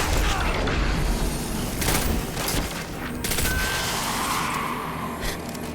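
Enemies firing on the player in the Destiny 2 video game, a loud, sustained barrage of rapid shots and booming impacts that continues throughout, close and heavy.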